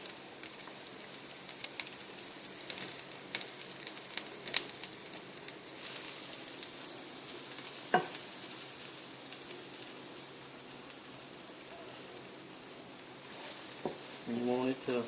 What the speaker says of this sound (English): we're going to take the flour, and we're going to let that flour suck up all the leftover juice that's in it